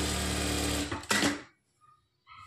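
Sewing machine stitching a lining blouse runs in a dense, steady mechanical whir for about a second, then stops with a couple of short clunks and near silence, with no talk.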